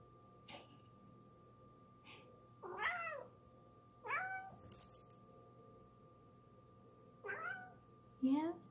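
A cat meows repeatedly in short, close, chirpy calls spaced irregularly, with several quick meows near the end, over a steady low hum.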